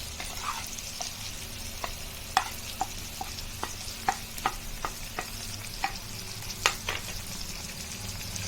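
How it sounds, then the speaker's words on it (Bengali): A spoon stirs potatoes coated in a paste of ground coriander, cumin, black pepper and green chilli in a frying pan, giving soft intermittent scrapes and taps over a low steady sizzle. "তার মশলাগুলো আলুকে ভালো করে নেড়ে একই সঙ্গে মিশিয়ে দিচ্ছি"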